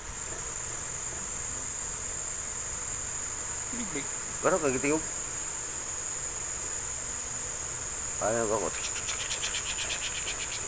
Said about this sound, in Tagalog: Kuliglig ko to.